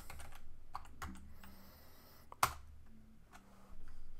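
A computer keyboard typing a terminal command, with a handful of separate, crisp key clicks spaced apart in a quiet room.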